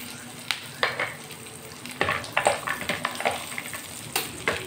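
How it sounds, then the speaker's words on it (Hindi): Garlic, green chillies and cashews sautéing on a medium flame, a steady close sizzle with frequent stirring scrapes and light clinks of a spoon against the pan. "इसको थोड़ा सा सौते कर देंगे मीडियम आंच पे"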